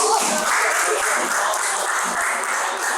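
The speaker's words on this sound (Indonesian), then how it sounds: "Tepuk tangan Bapak Ibu." An audience of teachers at a school dissemination session claps in a dense, steady burst of applause that fills the short span at an even, fairly loud level.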